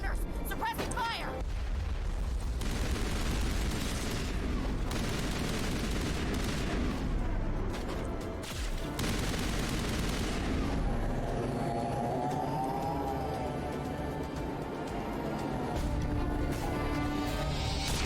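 Battle sounds from a Mass Effect firefight on Virmire, with dense sustained gunfire and booms running throughout under a continuous loud mix, with voices calling out amid the shooting.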